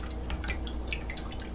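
Lye water being poured into a soap mixture through a strainer, a steady trickling and dripping of liquid with small bright splashes over a low continuous rumble.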